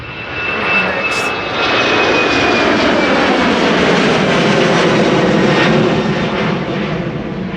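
Embraer 175 jet airliner moving on the ground at Amsterdam Schiphol, a loud, close, steady jet engine roar that swells in the first second and holds level, with no talk.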